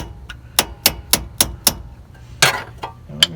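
Sharp metallic hammer blows knock a pin out on a 1994 Ford F53 motorhome chassis, about seven close, loud strikes in a steady rhythm with a brief clanking scrape between them.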